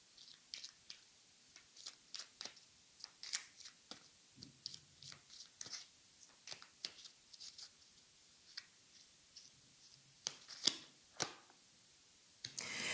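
Oracle cards are shuffled by hand in short, close, crisp bursts of papery flicks and taps, quiet overall with irregular pauses between bursts.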